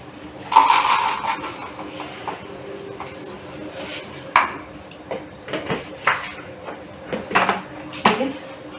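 Fried flattened rice (chire bhaja) poured into a dish at home, heard as scattered light clinks and rattles that come in short bursts over a quiet room.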